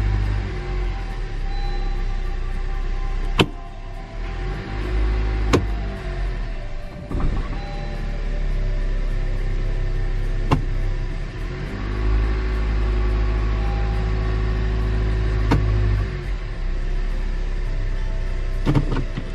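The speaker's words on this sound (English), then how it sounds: "Let's try to set it in reverse, see if it's gonna choke or not." A 2017 Honda Civic engine idles steadily while the car is put into reverse, a low continuous rumble broken by a few sharp clicks and clunks from the cabin.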